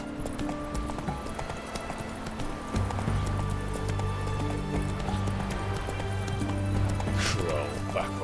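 Roach the horse gallops in The Witcher 3, with quick rhythmic hoofbeats under a game soundtrack, and a whinny near the end.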